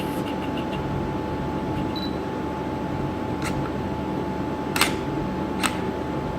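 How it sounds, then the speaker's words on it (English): A camera shutter fires while taking a photo in low light, giving a few sharp, brief clicks near the end against a steady hum of room noise; no talking. "if I click the picture right now, let's see what we have"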